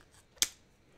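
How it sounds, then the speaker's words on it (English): Scissors make a single sharp snip through Pokemon card packaging, one brief crisp cut close by in an otherwise quiet moment. "I'm going to use my handy dandy scissors"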